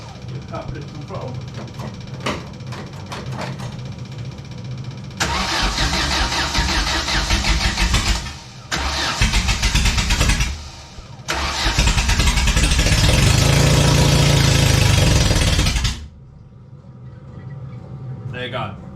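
A Vauxhall Nova autograss race car with no exhaust fitted cranks over and fires, then runs in loud, raw bursts of revving and idling with short pauses between, close up, with a person talking before it starts.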